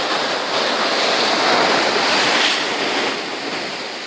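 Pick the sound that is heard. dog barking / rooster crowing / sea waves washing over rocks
sea waves washing over rocks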